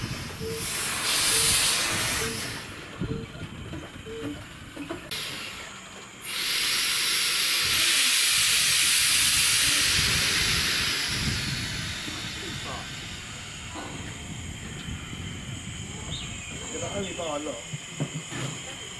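Loud steam hissing from a steam train rises and falls over the rumble and clatter of the train, with voices talking faintly in the background.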